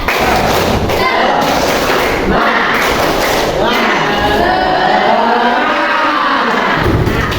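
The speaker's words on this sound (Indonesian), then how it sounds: "Tepuk semangat." Classroom of students doing a rhythmic clapping cheer led by a teacher, loud group claps and thumps with voices chanting along throughout, close and energetic.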